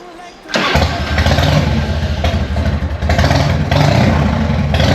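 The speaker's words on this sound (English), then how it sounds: "when I turn this bike on and let it idle for a bit, it's going to be okay." Harley-Davidson Evo 1340 motorcycle engine cranks and fires, then settles into a loud, steady, lumpy idle with slight swells in rhythm, close to the microphone.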